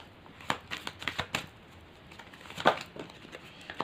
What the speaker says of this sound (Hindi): कार्ड्स क्लियर कर लेते हैं